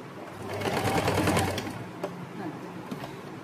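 Sewing machine stitching the pocket of a lined kurti, a steady close whirring run that swells and then eases off, with a few light clicks afterward.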